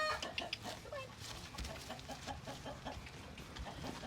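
Chickens on a farm cluck and chatter in a quiet, continuous flock, with scattered short calls at moderate distance and a faint voice briefly in the background.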